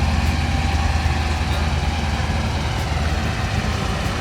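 A 2014 Dodge Challenger idles in a steady, low rumble, close and continuous with no pauses or revving.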